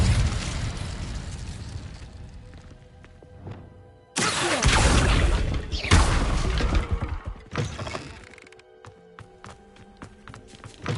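The Incendio fire spell is cast in Hogwarts Legacy, bursting into a sudden loud whooshing blaze of flame with crackling debris, then fading into sparse clinks and footsteps.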